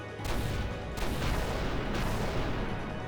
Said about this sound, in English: I think those long-range cannon hits were shell.